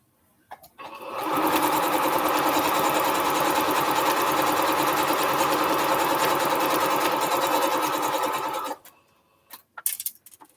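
A sewing machine stitching quilt strips together for a Triple Irish Chain quilt, a close, steady motor hum and needle whir running about eight seconds before stopping, with brief handling noises on either side.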